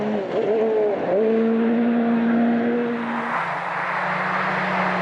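A Mitsubishi Lancer Evo 10 rally car on a gravel-and-tarmac rally stage in Latvia drives hard and close, its engine revving and shifting through gears with a strong, steady roar that settles into a sustained drone.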